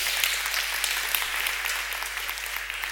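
An audience at a music-education conference talk applauds steadily, a dense, even wash of many hands clapping at close range with no voices on top, holding level for the whole stretch.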